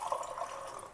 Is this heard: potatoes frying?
no